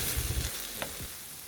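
Tomatoes cook down in a pan for a Filipino-style mung bean dish, a steady close sizzle and frying hiss with a soft stir or scrape partway through, no voices.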